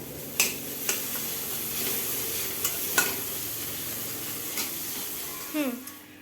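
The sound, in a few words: vegetables frying in a pan with iodized salt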